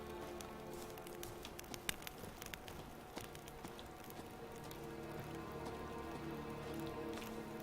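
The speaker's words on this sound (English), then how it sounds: "it's so relaxing though to be just hear the patter of the rain" Rain patters steadily on surfaces in The Witcher 3, a soft, even wash of scattered drops heard quietly and alone, with no voices.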